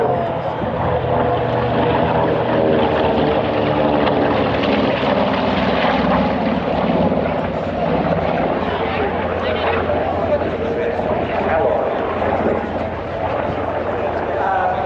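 World War II Navy propeller aircraft at the Tyabb Air Show, a loud steady engine drone holding throughout, with voices talking underneath.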